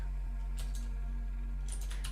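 A few quick keystrokes on a computer keyboard, light clicks in two short bursts over a steady low electrical hum, close by.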